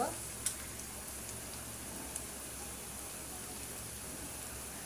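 Onions with cinnamon and cardamom frying in a pan for an egg curry, a steady soft sizzle throughout with a couple of faint clicks, no talking over it.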